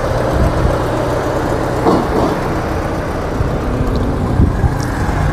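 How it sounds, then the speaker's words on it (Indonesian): An idling modified Opel Blazer engine with a leak at the front of the exhaust, a steady close rumble with faint irregular ticks and puffs, no voices. "Jadi ada suara bocor knalpot sedikit."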